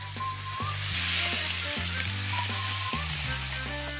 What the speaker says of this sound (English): Rub it a little bit of oil that is on top of the steak, and then straight onto the griddle pan